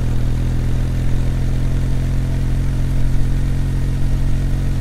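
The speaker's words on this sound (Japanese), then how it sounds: "このビタビタビタっていう音ね、これいいっすね。" Kawasaki W800 air-cooled motorcycle at low revs, a loud, close, steady exhaust with a rapid, even pulsing beat and a rough, throbbing low rumble throughout, no voices.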